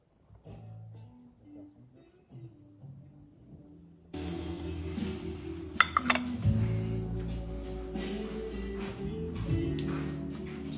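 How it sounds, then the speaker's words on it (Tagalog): Plates and dishes clink and clatter at a sink as someone washes up, with rattles and knocks over running background noise after a quieter stretch of faint talk. "Ugas pa pala pinggan."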